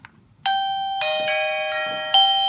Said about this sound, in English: here's what it does when somebody rings the doorbell.